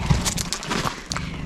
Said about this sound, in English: the donkey's arrived, as Rebecca will show you.